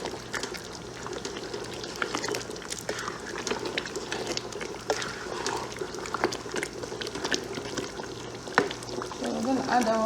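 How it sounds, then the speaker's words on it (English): A pot of Nigerian egusi soup cooks on the stove, giving off a continuous close bubbling and sizzling with soft scattered clinks and faint background voices. "Checking our soup. Look at that. It's been cooking for a while."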